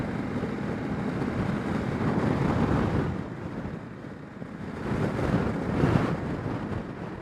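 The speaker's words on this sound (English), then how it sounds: "The wind was really shaking me about" Strong gusting wind buffets a motorcycle rider's helmet microphone on a road near Uitenhage, South Africa, a loud continuous rumbling roar that swells and eases in waves, with no talking.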